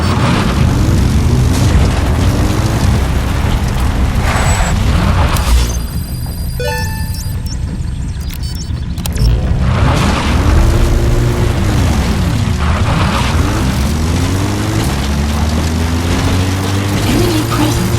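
A support helicopter arrives in Metal Gear Solid V, its loud rotor and turbine roar filling the whole stretch, swelling, easing briefly in the middle with mechanical clanks, then surging back with sweeping pitch shifts.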